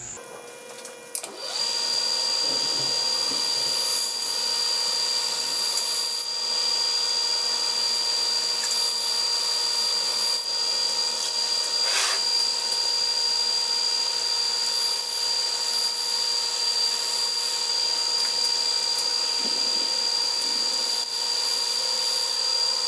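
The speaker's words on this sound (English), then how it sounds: "So what's going to happen next is I'm going to start grinding." A grinder putting a swedge on a knife blade, a steady high-pitched motor whine with grinding hiss, loud and constant for over twenty seconds after a brief start.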